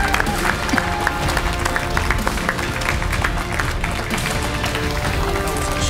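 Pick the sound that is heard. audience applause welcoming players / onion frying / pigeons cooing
audience applause welcoming players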